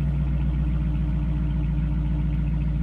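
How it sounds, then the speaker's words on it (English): A 2017 Dodge Challenger R/T engine runs with a deep, steady rumble, sounding close and constant with little audible rise in revs over the short stretch. "as I give it a couple revs here"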